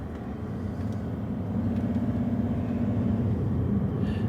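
A BMW 730d diesel car pulling out of a car park onto the road, heard from inside as a steady low engine rumble and road drone that swells slightly midway, continuous and close, no voices.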